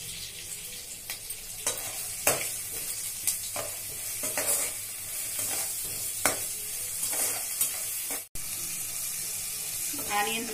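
Onions and garlic with a little salt fry in a pan for vegetable pasta, a steady sizzle broken by repeated stirring scrapes, with some running tap water audible in the kitchen.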